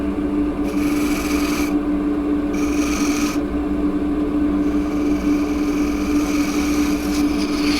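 Spindle gouge cutting a crossgrain xanthorrhoea wood bowl on a lathe, a steady close raspy scraping over a constant motor hum, with brief brighter bursts as the tool bites.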